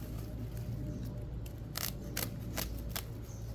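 A sharp blade slices through paper while planting boxwood in a garden, giving a few crisp broadband cutting strokes over a steady background hum, close and moderately loud with no talk.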